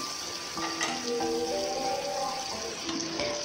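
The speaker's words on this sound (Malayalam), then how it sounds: "നമുക്കിനി ഇത് കറിയിലേക്ക് ഒഴിച്ചു കൊടുക്കാം." Mustard seed and garlic tempering with curry leaves sizzles briefly as it is poured into a buttermilk tomato curry, a steady frying hiss with faint clinks and tonal rings from a metal pan.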